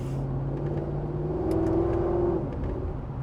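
A Mercedes E55 AMG W211 with stock resonator and stock mufflers holds a steady, deep engine and exhaust drone that swells in a brief rev midway, close and fairly loud throughout.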